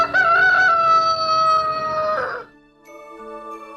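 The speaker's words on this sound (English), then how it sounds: "When dawn came, the rooster woke. As usual, he crowed very loudly." A rooster at dawn gives one long, loud crow in a storybook setting, its strained call rising and holding for about two seconds before breaking off, with a soft musical tone lingering afterward.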